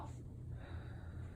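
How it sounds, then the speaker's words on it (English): A single soft, deep breath exhaled during a medical exam, close and faint, with a breathy rush. "Take a deep breath in again. Out."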